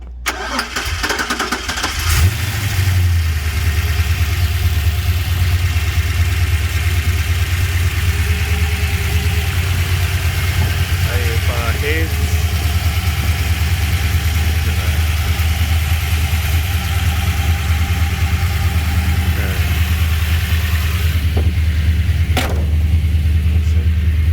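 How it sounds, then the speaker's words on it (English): A 1970 Holden HG GTS Monaro with a 350 V8 cranks briefly and fires, then settles into a loud, steady, deep idle that runs on close by with no talk. "We'll just listen to the engine start up."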